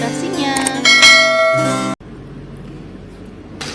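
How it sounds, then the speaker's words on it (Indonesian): A bell-like chime with tonal ringing notification sound effect sounds for about two seconds, loud and layered, then cuts off abruptly, followed by quieter background noise and a brief burst near the end. "aktifkan lonceng notifikasinya"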